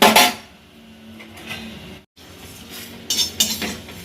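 Roasted curry leaves and spices tipped from a pan onto a plate, giving a loud clatter of metal and scraping at the start, then quieter faint clinks and a short burst of scraping near the end, with no talk.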